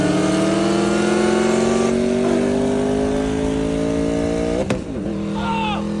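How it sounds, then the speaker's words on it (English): Car engine accelerating hard while racing a Corvette C6 Grand Sport, with a rising engine note that climbs steadily through the gear, a brief shift or disturbance near the end, then continued revving, loud and close. "I'll insert a clip of me gapping the absolute heck out of his C6 Grand Sport with an A&A"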